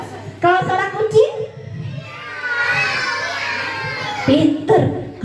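Children in an audience at a Maulid Nabi storytelling event call out together in a sustained, high, wavering group voice imitating a cat, loud and close, framed by an adult woman's speech before and after.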